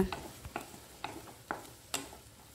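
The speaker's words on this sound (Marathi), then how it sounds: "कांदो नरम होईपर्यंत आपणाक भाजून घेऊचो असा।" Onion, ginger and garlic sautéing in oil for paneer masala give a faint sizzle broken by about five sharp, evenly spaced stirring taps and scrapes of a spoon against the pan.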